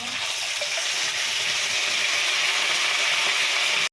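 Chicken meat sizzles and hisses in hot spiced oil in a home kitchen, a loud continuous frying roar with steady crackle, close up, that cuts off abruptly at the end.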